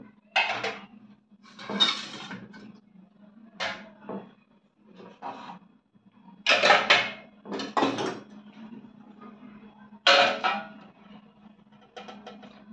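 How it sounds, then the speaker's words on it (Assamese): Dishes being gathered and handled in a home kitchen: sharp clinks and clatters of plates and utensils come in irregular bursts, some loud and close, separated by short quiet gaps. "সেইখিনি ধুনীয়াকৈ চপাই লওঁ এতিয়া মই বাচনখিনি"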